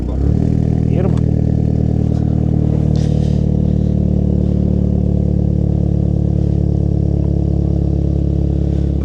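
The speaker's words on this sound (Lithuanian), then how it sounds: "čia paprastas 2 litrų 147 kW variklis" A 2-litre 147 kW diesel car engine, long stored in a garage, idles steadily with a deep even rumble and a faint clatter, close and loud, while a person talks briefly at the start.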